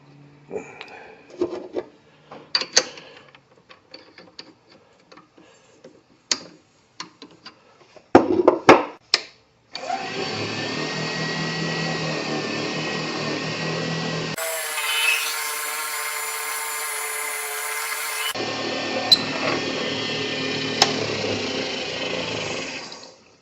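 A drill bores into a segmented fountain pen blank, beginning after several scattered handling knocks and taps, then running as a steady, loud whir whose pitch shifts partway through.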